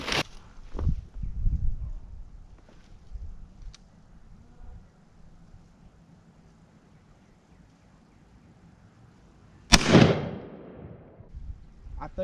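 A Stevens 301 20 gauge shotgun fires a single Indian Creek TSS load at 55 yards outdoors, one sharp loud blast with a short rolling echo after a quiet stretch.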